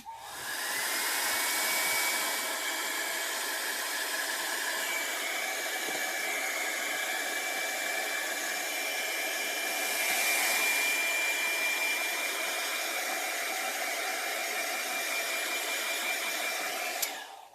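A hair dryer blows steadily at close range for the whole stretch while drying an alcohol ink painting of a flower, a loud constant airy rush with no talking.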